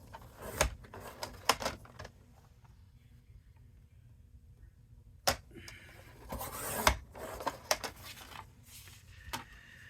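Paper card stock being trimmed while making cards, several close, sharp cutting and sliding clicks in short bursts, with quiet gaps between them and no talk.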